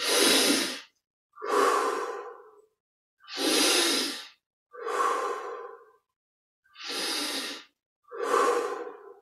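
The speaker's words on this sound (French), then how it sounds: "on ramène les épaules et les coudes en arrière et on respire 20 à 25 fois ici" Deep, slow breathing during a yoga chest-opening exercise, with six loud breaths close to the mic in a steady rhythm of inhale and exhale separated by silent pauses.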